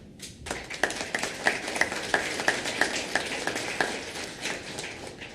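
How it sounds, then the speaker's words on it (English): Scattered claps from a small audience, a run of distinct hand claps spaced evenly over a few seconds, moderately loud in an indoor room with a low background murmur. "they deserve a round of applause"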